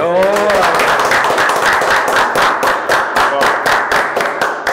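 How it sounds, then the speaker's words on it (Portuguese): A round of applause from a small group on a Brazilian agribusiness podcast set, sharp, close, fairly rhythmic claps continuing steadily for several seconds, with a voice briefly audible at the start. "Nossa, salva de palmas."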